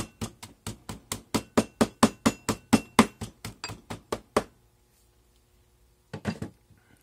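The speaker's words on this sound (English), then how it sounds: "So I'm using the end of a mandrel to pound this down." Petrobond casting sand is pounded down with the end of a metal mandrel in fast, even thuds, about fourteen close strikes in a row. After a pause, a short second burst of blows follows.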